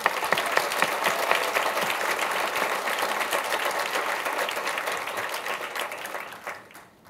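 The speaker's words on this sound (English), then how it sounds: "I think they deserve a well round of applause." Sustained applause from a crowd at a gala dinner, steady dense clapping throughout that fades out at the end, with no talk over it.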